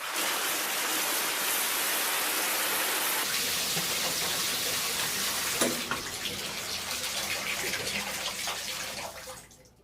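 Shower water running, a steady loud hiss of spray that shifts and softens partway through as the flow changes, continuing close to the microphone before fading at the end.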